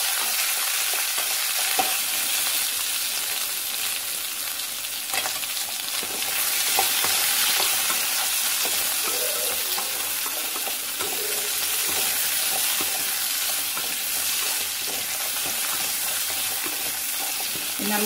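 Onions frying in a pan for a drumstick curry, a steady close sizzle with scattered crackles and occasional stirring that runs continuously without any talk.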